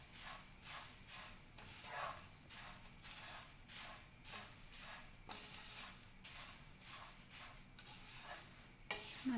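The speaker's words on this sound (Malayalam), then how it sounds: "നന്നായിട്ടൊന്ന് മിക്സ് ചെയ്ത് കൊടുക്കാം." A spoon stirs a poha chivda mixture after salt goes in, giving a quick steady rhythm of dry rustling, scraping strokes, close but quiet, with faint sizzle underneath.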